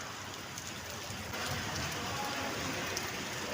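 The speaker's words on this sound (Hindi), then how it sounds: "बहुत ही तेज़ की बारिश शुरू हो चुकी है।" Heavy monsoon rain pours steadily at a block headquarters in the hills, a dense continuous hiss that grows slightly louder partway through, with no talk over it.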